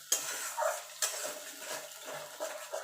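A spoon clinks and scrapes in a pan while rohu fish curry with cauliflower and potato is stirred, producing sharp intermittent taps and soft scraping at close range.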